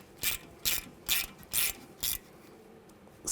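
Five loud, evenly spaced ratchet bursts, each a short rasping click run, as a screw is driven into a BMW 328i front brake rotor; close and alone, with quiet gaps between pulls.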